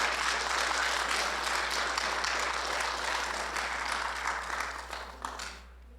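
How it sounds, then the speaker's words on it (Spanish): Congregation applauding in a church service, a dense broadband wash of many hands clapping steadily for about five seconds, then thinning and fading out near the end. "Dese un aplauso."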